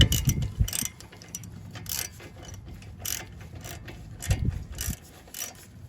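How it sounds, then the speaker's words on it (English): Ratcheting torque wrench tightening brake caliper bolts on a 2012 Chrysler Town & Country Limited during a front brake and rotor job, giving bursts of quick mechanical clicks with metallic clanks in between, close and fairly loud. "The next step is to torque."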